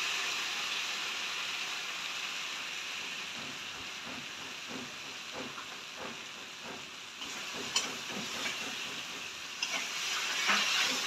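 Spice paste hitting frying tomato in a pan, a steady broad hissing sizzle throughout with a few sharper crackles and spits toward the end, close and without talking.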